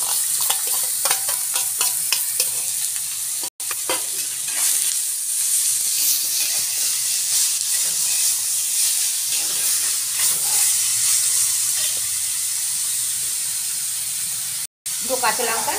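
Beetroot frying in a generous amount of mustard oil in a wok, a loud, dense hissing sizzle that holds steady throughout, close up with stirring scrapes and two brief dropouts.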